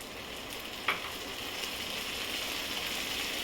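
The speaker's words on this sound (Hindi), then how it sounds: "इसमें मैं टमाटर डाल रही हूँ।" Onions sizzle in a frying pan as tomatoes go in for a pointed gourd and potato curry, with one sharp clatter when they drop, then a loud, even frying hiss that carries on with no talking.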